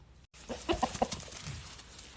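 A rooster on a farm gives a short burst of harmonic, crowing calls after a brief pause, fairly close and clear.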